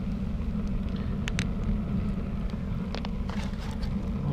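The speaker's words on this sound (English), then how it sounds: "You can hear it's burning pretty hard right now." A wood fire burns hard in a rocket stove with a six-inch feed box, a constant low roaring rumble with scattered faint crackles and ticks over it, heard alone without talk.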